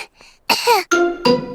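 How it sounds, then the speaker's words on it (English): A cartoon character coughs several times in quick succession, close and loud, the harsh bursts breaking into a voiced, throaty rasp. "As I thought, Pedro's cough is catching."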